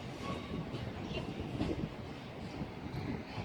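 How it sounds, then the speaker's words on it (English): A freight train of scrap wagons rolling by on the rails with a steady, dense rumble and faint rhythmic clatter, at moderate distance. "the scrap train is just crossing its path at the moment"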